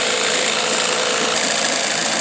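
A Johnson SeaHorse 15 hp outboard motor runs steadily at warm-up idle, a continuous loud, dense mechanical drone with no pauses and no voices.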